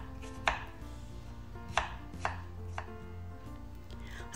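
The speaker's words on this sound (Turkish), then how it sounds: "2 adet orta boy elmayı gördüğünüz gibi bu şekilde küp küp doğruyorum" A knife chops two medium apples into cubes on a cutting board, with five or six sharp, separate knocks spaced irregularly over a quiet background and no voices.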